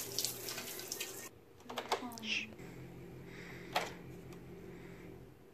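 Water runs from a tap during a water supply problem in New Orleans, heard as a few faint splashing bursts and clicks over a quiet, hissy background.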